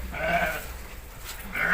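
Sheep on a farm bleat twice, a drawn-out cry at the start and another at the end, moderately close over a soft outdoor background.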